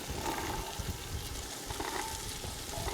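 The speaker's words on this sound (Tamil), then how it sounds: "வெங்காயம், தக்காளி நல்லா வதங்கியிருக்கு." Onions and tomatoes for a large-batch veg brinji biryani sauté in a pan, giving a steady close sizzle broken by scraping stirs.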